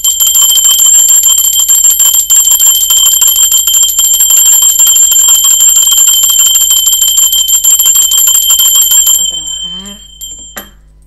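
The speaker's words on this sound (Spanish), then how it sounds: "concéntrense en el momento de la campana" A bell rings with a sustained, bright metallic tone that persists loudly for about nine seconds, then cuts off and fades out.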